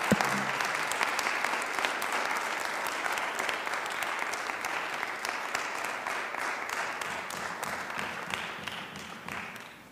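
An audience at an oratorical contest final applauds the candidates, a full, steady wash of many hands clapping for nearly ten seconds before it thins out and fades at the end.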